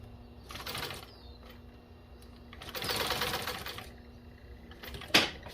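A commercial automotive upholstery sewing machine with a carpet binder runs in two fast whirring bursts through automotive carpet binding, pausing quietly between them, close up, ending with a sharp mechanical clack.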